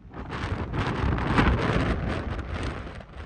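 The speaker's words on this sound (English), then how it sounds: "the wind started picking up" Strong wind gusting outdoors in open Wyoming country east of the Absaroka Range, a steady broadband roar buffeting the microphone, swelling near the middle and easing slightly toward the end, with no talking.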